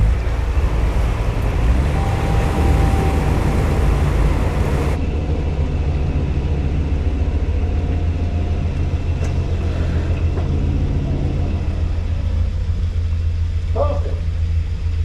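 Narrowboat engine at full throttle on a tidal river, a loud, steady low rumble that runs throughout, with faint wind and water noise and no clear talk.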